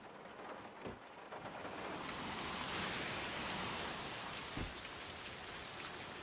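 Steady rain falls in a dramatic TV scene, a dense hiss that grows slightly louder midway, with a couple of dull thumps and no talking.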